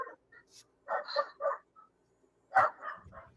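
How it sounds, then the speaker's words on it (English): A dog gives a few short, sharp barks in separate bursts, fairly close, with quiet gaps between them. "I'm trying so hard to train him not to bark, but Norris,"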